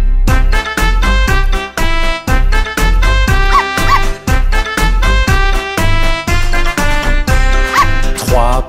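Cartoon puppies yap in rhythm through a bouncy French nursery rhyme about little puppies jumping on the bed, with short barks woven steadily into the loud music.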